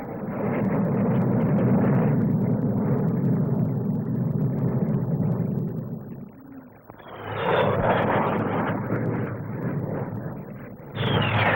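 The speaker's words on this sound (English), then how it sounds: "The Hawker Hunter Circus, each aircraft with a differing armament load." Hawker Hunter jets at the 1957 SBAC display at Farnborough roar past in a loud, broad rumble that fades, then swells again into a second pass with a rising whine, ending in another loud burst.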